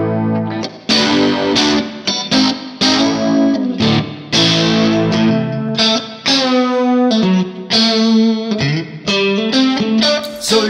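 A Neunaber Immerse Reverberator pedal colors an electric guitar with lush chorus and reverb as a string of strummed chords and notes rings out loud and up close, each one swelling and trailing off.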